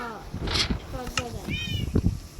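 A cat meows a few times inside the game Minecraft, short tonal cries heard under and between lively, close conversation.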